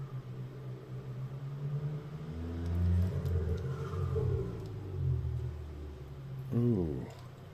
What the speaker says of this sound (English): there's someone outside